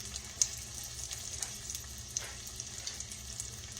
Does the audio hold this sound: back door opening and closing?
no